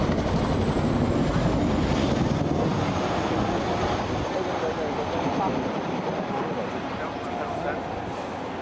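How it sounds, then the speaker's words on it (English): A steady broadband roar of an RAF Chinook helicopter making a run-in and breakaway at an airshow, heard from a boat, loud and sustained and fading slightly, with a commentator's voice over the top. "the aircraft run-in is doing a run-in and a breakaway"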